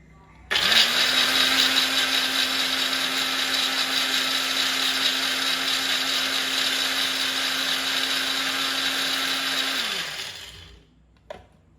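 A kitchen blender grinds pomegranate seeds, starting abruptly and holding a loud, steady whirring drone for about nine seconds before winding down, followed by a brief clink.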